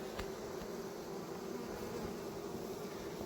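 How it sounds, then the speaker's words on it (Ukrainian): A dense, steady buzz of many honeybees fanning at the hive after settling a newly caught swarm, continuous and close, with no voices. "ви бачите, бджоли вентилюють"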